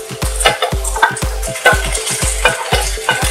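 Sliced onions and finely chopped green chillies stir-fried with okra and mutton in a pan: loud, close, rhythmic stirring strokes, each a thudding scrape against the pan over a steady frying sizzle, with no talking.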